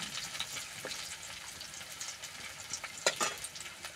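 Garlic paste frying in oil in a pan for a village-style fish curry gives a soft, continuous sizzle with scattered small crackles and a brief louder pop near the end.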